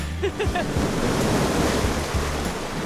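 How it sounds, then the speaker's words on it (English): Steady wash of water and wind beside a hot thermal pool in Yellowstone National Park, a continuous rushing surge with light wind buffeting on the microphone. "There's like waves lapping up against the edge of the pool."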